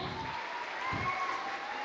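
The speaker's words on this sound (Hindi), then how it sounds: "एकदम जोरदार तालियाँ" Applause from an audience at a diamond celebration event, a steady wash of many hands clapping, moderately loud and continuous with no speech over it.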